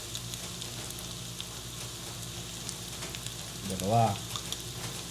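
Garlic, onion and shrimp paste frying with pork in a pan give a steady, close sizzle with a soft crackle, and a voice speaks briefly near the end.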